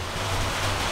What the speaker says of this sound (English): as you can probably hear, you can hear the rain.